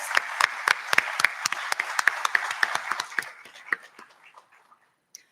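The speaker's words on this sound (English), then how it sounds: "Can we have a huge round of applause?" A short burst of audience applause at an inaugural ceremony for a business school batch, scattered claps that thin out and fade to a few last claps.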